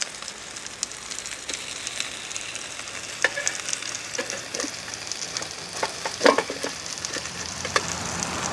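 Spanish mackerel burger patties fry in a pan with a steady close sizzle and crackle, broken by occasional louder pops and spatula scrapes.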